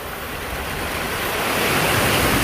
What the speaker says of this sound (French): Petite baignade à Anse-Couleuvre pour finir le trip.